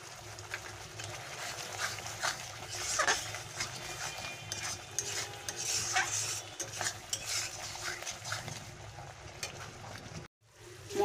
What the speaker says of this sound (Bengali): মশলাটাকে নাড়তে হবে যাতে না লেগে যায়।